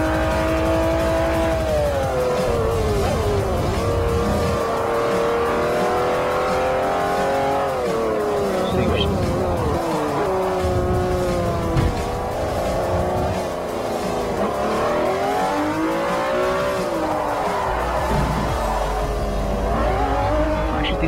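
A Lamborghini Aventador races around the Nürburgring in Forza Motorsport 4, its engine revving up and down through gear changes in loud, continuous sweeps, with brief tire squeals.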